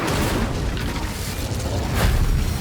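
An Incendio fire spell erupts in Hogwarts Legacy, a dense, loud roaring whoosh of flame with rumbling low booms, sustained throughout and flaring again near the end.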